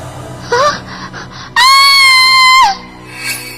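A girl screams in fright, a long loud sustained high-pitched shriek of about a second, preceded by a shorter gasping cry amid eerie background sound.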